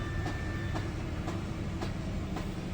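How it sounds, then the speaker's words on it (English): A Jeep XJ engine idles with a rhythmic clacking from its belt tensioner, evenly spaced clicks about twice a second over a steady low rumble, fairly faint and without talk. "That clacking noise is starting to come back. It disappeared for the summer. It's the belt tensioner, even though it's a new belt and a new tensioner"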